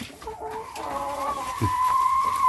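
Hens cluck and call softly in a new hen house on a morning, a few overlapping tonal calls rising and holding close by, with no talk.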